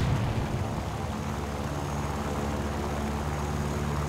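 Yak-1 propeller fighter flying low in the War Thunder game, a steady droning engine hum with a continuous low rumble, sustained and even for the whole clip.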